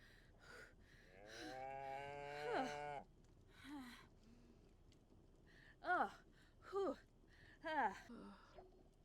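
A cow moos in The Sims 4, giving a long, drawn-out low moo followed by several shorter, rising moos, with soft breathy gasps in between, all heard fairly close against a quiet background.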